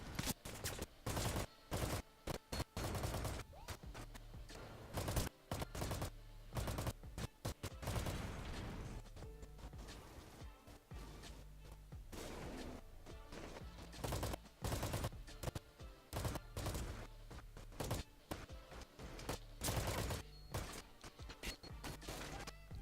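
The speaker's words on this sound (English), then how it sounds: "Let me go ahead and reload here. I'm going to lay down some fire." Dense, sustained gunfire in a shooter video game, with rapid automatic bursts and heavy booming shots hammering almost continuously, loud and close, with only brief lulls.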